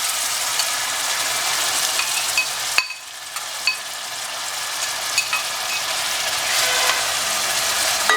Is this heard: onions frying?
yes